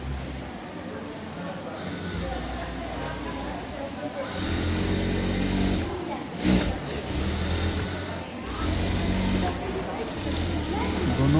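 A sewing machine joins the front and back panels of a pair of full-length trousers with a running stitch, its motor whirring loud and steady in bursts that rise and ease. Other machinery hums underneath.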